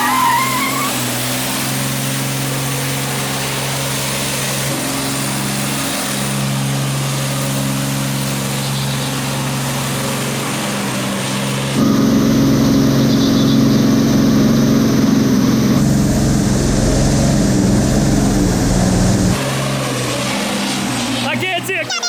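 A 2,400 horsepower triple turbo semi truck roars loudly through a sustained tire burnout, its engine droning with a deep steady hum and a surge of harsher noise midway, with people talking over it.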